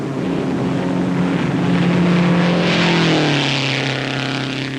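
Race cars roaring around the track at the 1957 Indianapolis 500, a loud engine drone whose pitch sweeps and falls as cars pass, over a broad wash of crowd and track noise.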